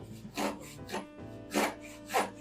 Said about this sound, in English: I'm not trying to really cut a whole lot of wood right now